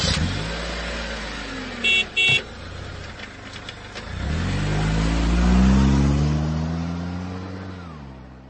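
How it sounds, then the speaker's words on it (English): A car drives past with engine noise building as it accelerates, a couple of short horn toots early on, then a louder, rising engine pull that swells close by and fades. "So this is a vehicle."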